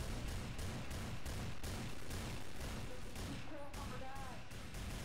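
Rapid, sustained gunfire from shooting at beavers in the Gmod Zombie Escape game, a dense loud fusillade of repeated shots throughout with a few faint whistling tones near the end.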